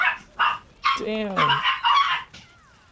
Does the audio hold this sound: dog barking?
yes